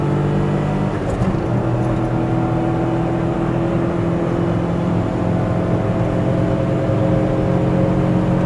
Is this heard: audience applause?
no